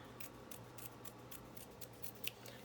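Scissors snip paper while trimming a page for a new journal, a quick run of about eight crisp, evenly spaced cuts close up against a quiet room hum.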